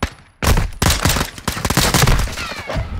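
Rapid, dense gunfire fills a video game shootout in an alley, loud close bursts of shots following one another after a brief quiet start.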